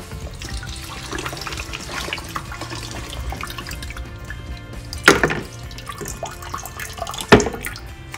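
Warm water runs from a faucet into a slop sink in a barndominium workshop, a soft continuous splashing with a couple of louder gushes and sloshes partway through.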